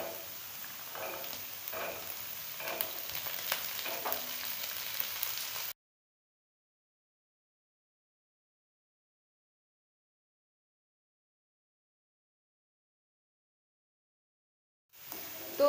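Peas and mixed vegetables sizzling and frying in a pan for hakka noodles, a steady crackling hiss for several seconds, then a long stretch of silence before the sizzle briefly returns at the end.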